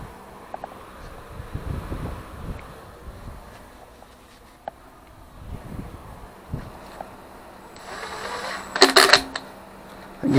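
Engine bolts are snugged down by hand during piston and cylinder assembly, with soft scattered clicks and taps, then a brief burst of rapid ratchet-like clicking near the end, close and fairly quiet, no talking.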